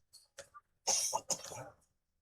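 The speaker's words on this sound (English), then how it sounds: "Pardon me as I cough up a lung." Several harsh coughs from a basketball commentator, close by: a few short hacks followed by two longer, raspy bursts, then quiet.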